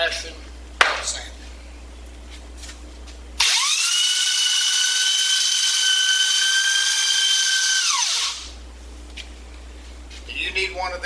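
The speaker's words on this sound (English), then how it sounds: "Then we got the one everybody likes to buy, the good old-fashioned belt sander." An old-fashioned woodworking belt sander whines loudly and steadily for about five seconds, starting abruptly and winding down, between quieter stretches.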